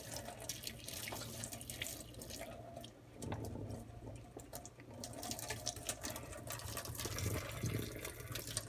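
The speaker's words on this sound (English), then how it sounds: "You got to pour a good amount of this liquid out, right?" Cooking liquid poured from a pot of macaroni into a sink, a steady running splash lasting the whole stretch at moderate level with no talk.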